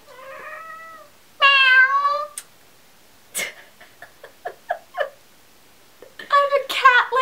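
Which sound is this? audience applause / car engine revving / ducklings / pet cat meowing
pet cat meowing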